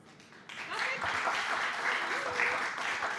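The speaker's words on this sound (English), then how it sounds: "They deserve a huge round of applause" Audience at a UNFCCC COP session on the Rio Conventions breaks into applause, clapping swelling quickly and holding as a steady, dense roar in a large hall.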